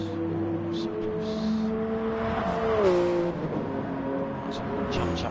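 Racing cars in a Gran Turismo video game race, a 90's classics league round at Blue Moon Bay: steady, droning engine tones that hold and then drop in pitch on a gear change, loud and continuous throughout.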